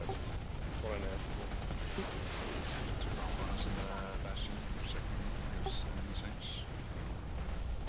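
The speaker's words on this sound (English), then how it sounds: "He glitched in the hill and is shooting our aircraft." Gunfire from Planetside 2 aimed at aircraft, with a continuous busy barrage of shots and explosions under a constant battle din, while a voice talks over it.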